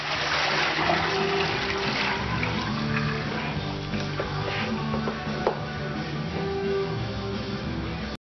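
Automatic transmission fluid glugs and trickles steadily from a quart bottle into the filler of a 2001 Mitsubishi Galant, a close, continuous liquid pour with faint clunks underneath.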